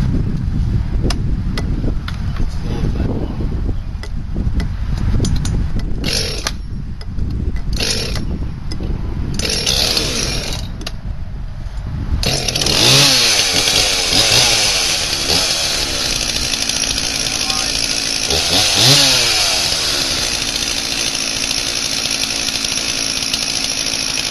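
An old, cold Husqvarna chainsaw is started from cold during brush clearing: repeated rough pull-start sputters and coughs, then the engine catches and runs loud and close with a steady buzzing drone and a couple of throttle revs.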